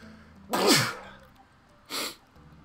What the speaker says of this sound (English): I got sneeze.